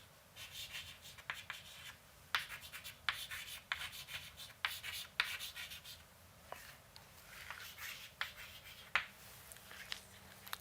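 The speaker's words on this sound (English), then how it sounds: "I have to write down this thing" Handwriting on a board or paper during a lecture on Clos networks, a series of scratchy strokes and taps of varying length over about ten seconds, near and fairly quiet, with no talk.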